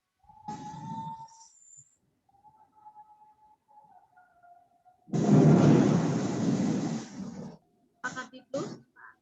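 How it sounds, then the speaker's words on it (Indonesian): Thunder rumbles during a rainstorm, one loud low roll lasting a couple of seconds followed by shorter crackling bursts, heard over an online meeting with faint tones and talk around it. "Ini banyak petir."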